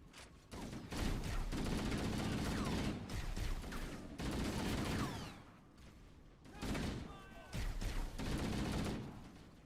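Rapid bursts of gunfire rattle through a Halo: Combat Evolved firefight, several loud volleys separated by short pauses, with a voice in the background.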